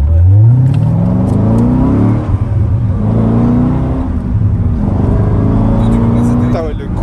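Red Corvette Z06 with a 7-litre V8 accelerating hard, engine note climbing steadily in pitch through several gears, loud and close from inside the car, with occasional talk over the drone.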